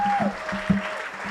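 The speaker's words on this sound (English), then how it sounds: "I think that the presentation deserves a round of applause there." Applause for an auction presentation at a live-streamed event, broad and steady, with a faint tone and a few spoken sounds over it.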